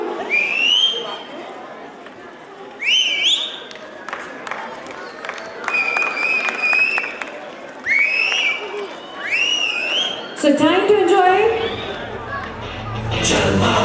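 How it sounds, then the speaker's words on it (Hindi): A crowd at a school annual function cheers and whistles, with high shrill whistles and scattered clapping mixed with an announcer's voice over a speaker, growing louder and busier toward the end. "तालियां बजाते रहिए, शोर बजाते रहिए"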